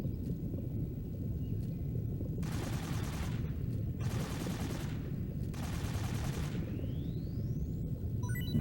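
AK rifle fire aimed at an alligator in Metal Gear Solid 3, three sustained full-auto bursts of about a second each separated by short pauses, fairly quiet and with no talking.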